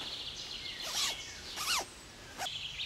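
Zipper being pulled on a Vaude Sioux 100 sleeping bag as someone gets in: three short rasping zips spread over a few seconds, fairly close and moderately quiet.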